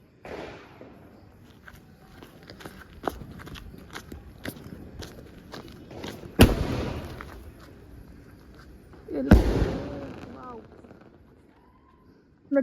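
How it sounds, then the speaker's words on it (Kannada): Firecrackers going off during a family Diwali celebration at home: two loud, sharp bangs stand out among scattered smaller cracks and pops, with voices in the background. "ನೋಡಿ ಕ್ರೇಜ್ ಜಾಸ್ತಿ ಪಟಾಕಿ ಹೊಡೆಯೋಕ್ಕೆ"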